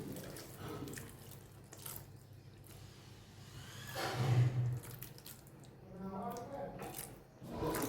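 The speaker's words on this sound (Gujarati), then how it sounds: "સાદું પાણી જ આપણે ઉપરથી સહેજ છાંટું નાખીશું" Plain water splashed over mung dal cooking in a pot, soft irregular sprinkles and trickles heard close, faint and brief.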